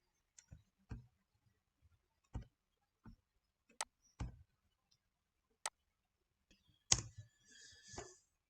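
Keys tapped one at a time on a computer keyboard while entering a Linux admin command, sparse separate clicks spread across several seconds and ending in a short flurry, close and quiet with no talk.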